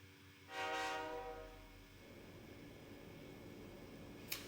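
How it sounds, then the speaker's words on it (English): Passenger train in the video game Persona 3 Portable, a loud horn-like tone that sounds early, then a steady rolling rumble of the carriages that continues to the end. "Inside the New City passenger train,"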